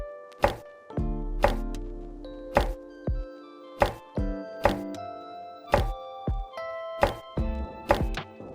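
A knife slicing sausage into bite-sized rounds on a cutting board, a steady series of about ten sharp, close thunks spaced roughly a second apart, each cut clean and distinct against a quiet kitchen background.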